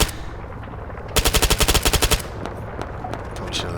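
An MP7 PDW fires a rapid burst of about a dozen sharp, evenly spaced shots in Arma 3, loud and close, set against a steady wind-like background hiss.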